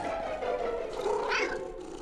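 A cat meows in a drawn-out, wavering call lasting about two seconds, close and fairly loud, with no talk over it.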